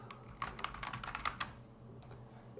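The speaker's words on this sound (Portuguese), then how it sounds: "agora eu vou digitar carpinteiro." A burst of quick, close keystrokes on a computer keyboard as a word is typed, fairly quiet over a low background hum, with a couple of final taps after a short pause.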